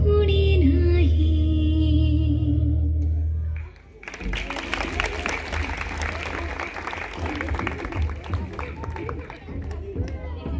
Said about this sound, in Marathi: सो परत एकदा टाळ्या वाजवूया